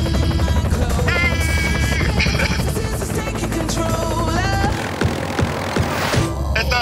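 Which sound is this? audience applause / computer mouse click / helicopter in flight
helicopter in flight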